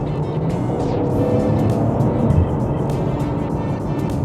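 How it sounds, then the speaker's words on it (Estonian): A Maserati Ghibli S engine pulls steadily under acceleration, its muffled exhaust note droning low and continuous from inside the cabin. "väljalase on autost väga hästi niimoodi summutatud parajalt, et sa kuuled nagu seda nooti"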